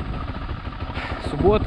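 A Minsk X250 motorcycle engine runs while riding, a low, throbbing drone with steady pulsing under a voice talking over it.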